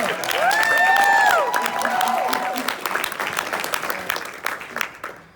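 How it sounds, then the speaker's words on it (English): Audience applause and cheering at a motivational seminar, a dense roar of clapping loudest at the start and thinning slowly, with sustained whistle-like tones riding above it. "Give yourself a round of applause."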